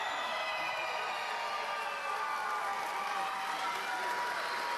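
A crowd at a live wrestling event applauds for a returning champion, a steady, distant wash of clapping and faint cheering that fills the whole arena evenly without letting up.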